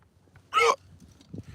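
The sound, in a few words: hiccup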